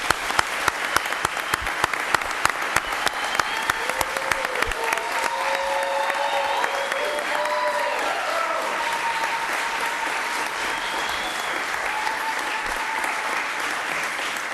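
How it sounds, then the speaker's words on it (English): A city council meeting audience applauds Mayor Williams, a sustained burst of dense clapping from a room full of people that holds steady throughout, with a few brief vocal murmurs rising faintly underneath. "Please give a hand of applause to Mayor Williams."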